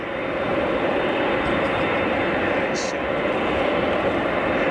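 A Cargolux Boeing 747 at Ted Stevens International, Anchorage, holds a loud, steady jet-engine roar throughout, continuous broadband rumble with no breaks.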